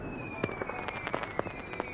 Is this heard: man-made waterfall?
no